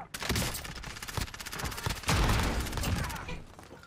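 Gunfire in a Modern Warfare video game comes as dense, rapid bursts of shots layered over one another, with a heavier blast midway, continuous and loud throughout.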